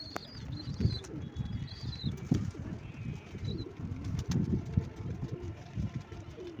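Pigeons in a loft coo in low, overlapping murmurs, with occasional wing flaps and faint high chirps, all fairly quiet.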